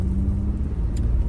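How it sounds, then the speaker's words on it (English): Car cabin noise while driving with the windows down, a steady low rumble of engine and road with wind wash, continuous and fairly loud throughout with no voices. "y'all probably can't hear over my car and I got my windows down"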